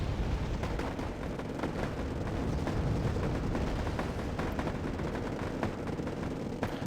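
A Harrier GR1 bombing a position in the war game Wargame: Airland Battle: a dense, unbroken barrage of explosions and gunfire rumbling loudly and steadily throughout, with sharper cracks scattered through the roar.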